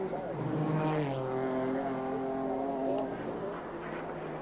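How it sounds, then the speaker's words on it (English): A 2-litre turbo race car engine at a racing event, throttle eased off and then jabbed again, droning loudly and steadily with shifting pitch while a commentator talks over it. "He just eases off the throttle and gives it a jab again."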